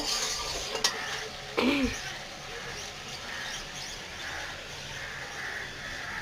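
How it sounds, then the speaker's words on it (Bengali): Ash gourd pieces poured into frying spices and stirred in a pan, a soft steady sizzle with a couple of sharp clatters early on, close and fairly quiet, no speech. "এখন এর মধ্যে চাল কুমড়াগুলো ঢেলে দেবো"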